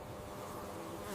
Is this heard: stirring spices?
no